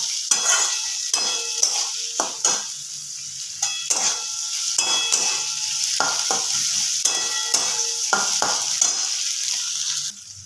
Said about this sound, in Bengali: এবার এটা ভালো করে ভাজা ভাজা করব।